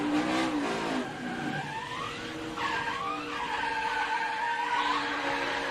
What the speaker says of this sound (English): You heard him playing with the throttle.